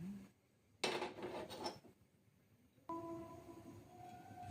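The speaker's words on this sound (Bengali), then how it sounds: "এদিকে আমি গ্যাস ওভেনটা জ্বালিয়ে বসিয়ে দেব একটি তাওয়া" A metal tawa griddle is set down on a gas stove with a short clatter of metal on metal, followed by a quiet pause and then a steady low hum and hiss from the burner.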